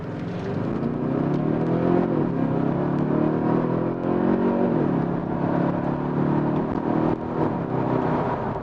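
A 2021 Kia Stinger 2.5T AWD facelift with the new 2.5 turbo engine accelerating hard in sports mode on an empty road, a steady loud engine drone with rising revs heard from inside the cabin.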